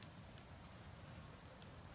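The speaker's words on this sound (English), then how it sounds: "It's raining." Steady rain falling in the survival video game Icarus, a dense, even hiss of drops pattering on surfaces, soft and continuous with no talking.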